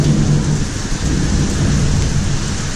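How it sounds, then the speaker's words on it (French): A thunderstorm in Hanoi, Vietnam, with heavy rain falling steadily and loudly over a deep, continuous rumble of thunder, with no voices. "Il y a de l'orage."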